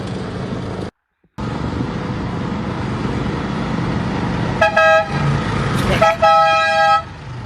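Horns on a couple of toy Mack trucks honk twice in quick succession, each a bright, steady tone lasting under a second, over a continuous busy background with a short dropout near the start.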